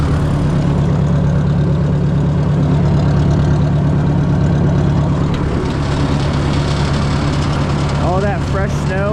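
Ford 601 series 6-volt tractor engine running loud and steady while driving through fresh snow on a freezing day, a deep continuous low chug with mechanical vibration and a voice talking over it.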